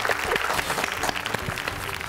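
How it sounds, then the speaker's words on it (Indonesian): Audience applause at an Indonesian family talk show on teenage emotional control: steady, dense clapping from a studio crowd throughout, with faint voices underneath. "Tepuk tangan dulu dong ya."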